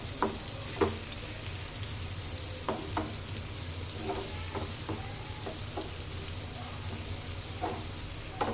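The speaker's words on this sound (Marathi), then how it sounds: "कांदा बारीक कट केलाय तो टाकून घेऊया। तो असं छान ब्राऊन होऊन द्यायचा आहे।" Finely chopped onion fries and browns in a pan with a steady close sizzle, broken by occasional clicks and scrapes of a spoon stirring, and no talking.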